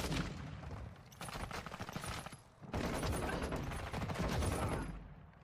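Dense bursts of Call of Duty gunfire, heavy rapid automatic shooting in two long volleys with a short gap, loud and close with no talking.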